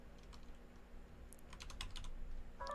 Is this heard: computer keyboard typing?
yes